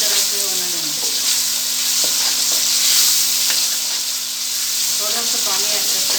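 Tomatoes frying in a pan of oil for an aloo gajar (potato and carrot) curry give a loud, close, steady sizzle with a few clinks of stirring.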